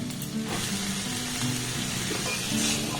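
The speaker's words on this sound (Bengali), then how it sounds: "মশলাগুলোর সাথে আলুটাকে আমি খুব ভালোভাবে দেখুন কষে নিয়েছি" Potato pieces sizzling steadily with spices in a frying pan, a continuous close hiss of frying with faint stirring and no voices.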